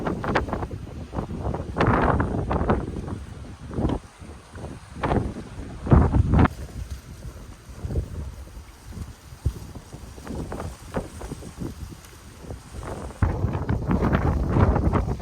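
Gusty wind buffets the microphone in rumbling bursts that swell and fade on a hill in Exuma Land and Sea Park, with faint water and motion sounds underneath and no talking.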